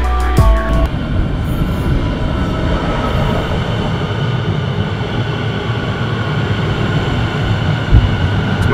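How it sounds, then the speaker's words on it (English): A Melbourne train rumbles steadily along the tracks arriving at Melbourne Central, with a constant low roar and faint clatter, heard from inside or very near. "Train."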